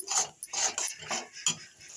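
A utensil scrapes and clinks against a pan a few times while fish curry with ground onion and pepper is stirred, close, light and intermittent.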